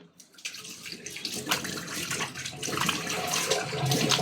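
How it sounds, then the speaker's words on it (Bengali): Tap water runs steadily into a sink while facial scrub is rinsed off the face. The flow and splashing are continuous and close and grow slightly louder toward the end, with no speech. "এখন আমি সুন্দর করে জাস্ট ধুয়ে নিব"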